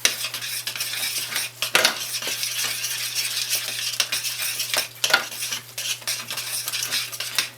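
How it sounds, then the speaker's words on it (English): Vegan sausage crumbles stirred into a gravy in a pan make close scraping and clinking of a utensil against the pan over a soft sizzle, with irregular strokes and no talking. "Add the sausage back to it. Give that a quick stir."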